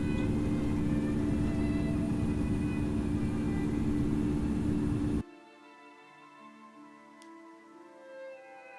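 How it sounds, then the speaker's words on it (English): Flight MH370, an airliner departing Kuala Lumpur, gives a loud, dense, steady rumble for about five seconds before it cuts off abruptly, leaving a faint, quiet tonal background. "With 239 passengers on board, Flight MH370 departs from Kuala Lumpur."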